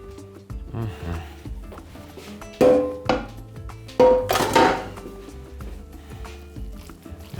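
Food being stirred in a pot with beef ribs, heard as a few loud clanks and scrapes of a utensil against the metal, spaced out over quiet stretches with a low sizzle underneath.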